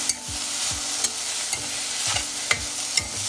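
Coriander leaves sauté in a pan under a soft, constant sizzle, with regular scraping stirs of a spatula landing about every half second, close and moderately loud.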